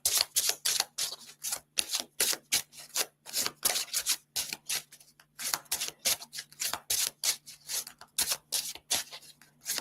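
Repeated brisk rasping strokes of cards being shuffled, steady and rhythmic over a faint low hum, close up with no talking.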